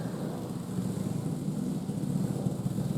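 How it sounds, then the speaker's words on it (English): A Swiss ball rolls continuously across an exercise mat indoors, producing a steady low rumbling roar much like a passing engine, sustained and fairly loud throughout. "That is my ball on the mat."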